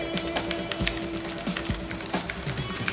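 Keys clack on a Keychron K8 Pro wireless mechanical keyboard with a plastic case and factory-lubed switches, an irregular run of close, crisp taps and thocks with no talking.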